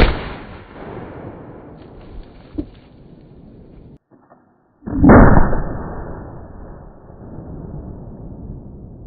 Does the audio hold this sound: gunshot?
yes